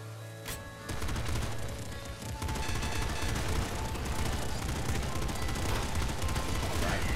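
Base SMG firing in the video game Nuclear Throne Ultra Mod, a rapid continuous stream of shots that runs nearly nonstop and loud after a short quiet start, with busy game effects mixed in.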